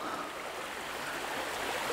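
A shallow mountain stream runs steadily over its bed, producing a continuous broadband rush of flowing water at moderate level with no voices.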